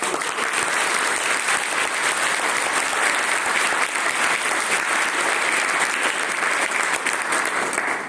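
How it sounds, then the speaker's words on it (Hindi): Loud, sustained applause from a large crowd, dense and steady throughout with no pauses, filling the whole stretch. "तो एक बार जबरदस्त तालियां आप सब लोगों के लिए।"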